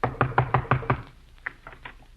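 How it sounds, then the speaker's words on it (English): Knocking on a wooden door as a radio comedy sound effect: six loud, evenly spaced knocks in quick succession, followed by a few fainter taps as the sound trails off. "Come on, I'll knock on the door."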